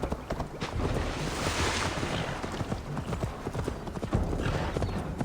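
Horse hooves clip-clop in a steady, brisk rhythm inside the video game Assassin's Creed Valhalla, close and continuous over a rushing ambient wash, with no talking.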